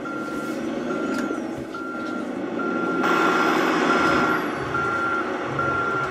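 A truck in a simulator video game reverses with steady, evenly spaced beeping over a continuous engine rumble, the tones repeating throughout without pause.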